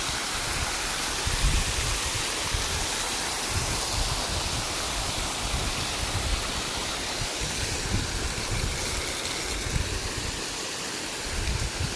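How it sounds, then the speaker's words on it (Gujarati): Irrigation water gushes steadily into a groundnut field on a farm, a constant loud rushing wash with no pauses and no one talking over it. "જો પાણી થઈ ગયું ચાલુ અહીંથી"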